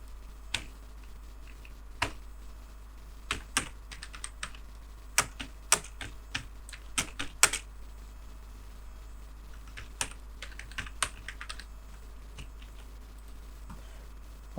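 Code is typed on a computer keyboard in irregular bursts of close, crisp key clicks, with short pauses between runs against a low steady hum.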